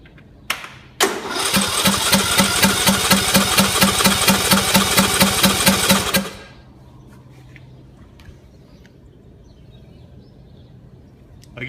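A John Deere engine with a freshly replaced head gasket cranks over rapidly and rhythmically for about five seconds, loud and close, then the starter stops and it falls quiet apart from faint background noise.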